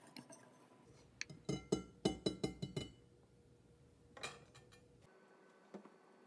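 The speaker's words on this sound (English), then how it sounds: "Use your whisk to mix your dry ingredients." A wire whisk mixes flour, salt and baking powder in a bowl for homemade flour tortillas. A quick run of bright metallic clinks and taps sounds against the bowl, then a pause and a few scattered clinks. The sound is fairly faint and close, with no talking.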